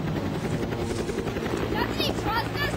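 A toy helicopter marked InGen flies in a Lost World Jurassic Park toy movie, a steady loud rotor drone filling the scene beneath overlapping voices and a music-like layer.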